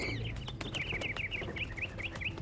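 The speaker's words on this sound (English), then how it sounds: "those are some noisy ass birds" Noisy birds in the Hitman 3 video game, a steady run of repeated chirping calls that rises and falls in a regular rhythm above a low ambient rumble, with no talking.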